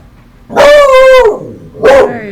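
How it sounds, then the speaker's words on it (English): A dog indoors reacts to a doorbell with two sharp, loud barks, the first drawn out into a whining, howl-like tone. A brief quiet gap separates them, and no voices are heard. "Sorry about Choppy barking. Someone rang the doorbell."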